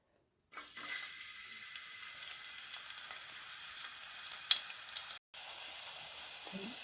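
Pieces of lightly crushed garlic hit hot oil and sizzle steadily, a close, bright crackle with small pops, broken by one short pause before the frying resumes.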